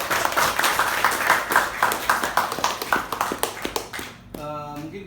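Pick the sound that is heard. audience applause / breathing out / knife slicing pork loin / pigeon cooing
audience applause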